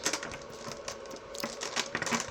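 Small, super-smooth rune stones shuffle and clack against one another in the hand, a rapid, close stream of light clicks and rattles without speech.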